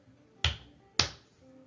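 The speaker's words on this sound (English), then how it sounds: "Clap out the word." Two sharp hand claps about half a second apart, close and crisp in a quiet room, each with a short decay, used to beat out the syllables of a word.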